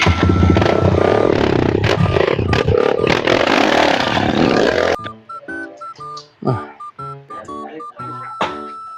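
A motorcycle with failed brakes, its engine running loud and rough for about five seconds before cutting off abruptly, after which scattered clattering and short bursts follow.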